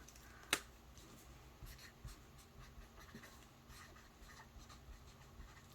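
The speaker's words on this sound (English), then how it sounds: "here, I'm gonna write it down." A marker scratching on paper while jotting down life goals: soft, faint strokes following a sharp click, close by and quiet.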